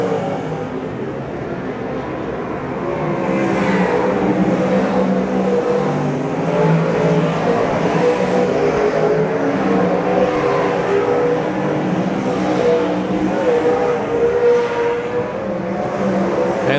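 Nissan 240 race cars roar around TWS Paradise Valley Speedway in Rotorua during a night race. The engines blend into a loud, continuous roar that swells after a few seconds and holds for the rest of the stretch.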